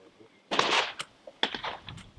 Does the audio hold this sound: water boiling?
no